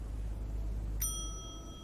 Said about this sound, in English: So let's ring the bell and see who's working here.